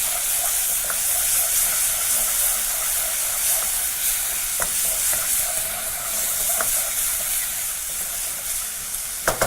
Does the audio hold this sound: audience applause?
no